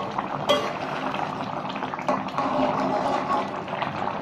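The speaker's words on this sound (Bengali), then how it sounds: "এবারে আমি ঢাকনাটা তুলে নেব, হালকাভাবে আবার একটু নাড়াচাড়া করে দেব।" Tilapia fish curry simmering in a pot bubbles with a steady, dense liquid burble. A lid is lifted and the curry is stirred, adding a few sharp clinks near the start and partway through.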